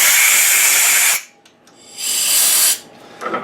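Compressed air blasts metal chips off a tapping machine in two loud bursts of broadband hiss, about a second each with a short quiet gap between, then a brief third puff begins at the end.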